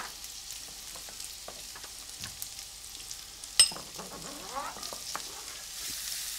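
Onion fries quietly in a pan, a soft low sizzle with occasional light stirring taps and one sharp metallic clink midway.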